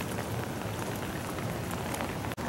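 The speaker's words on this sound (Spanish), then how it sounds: "Está lloviznando, señores." Soft, steady drizzle hisses on a surface with fine scattered droplets, a faint even wash of light rain with no talking.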